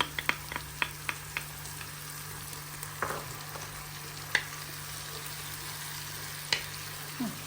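Onions and grated village tomatoes fry in a pan with a steady, quiet sizzle, broken by a few sharp clicks and scraping stirs.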